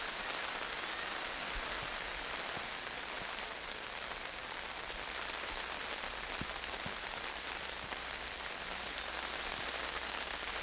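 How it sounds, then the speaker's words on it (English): Heavy rain pours steadily across a soccer field during a night girls' high school game, a dense continuous hiss with no break. "Now the rain raining as hard as it has all night."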